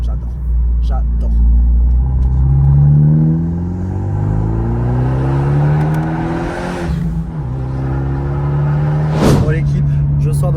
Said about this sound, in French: Regarde, tac, je mets un petit coup. La voiture, elle grogne.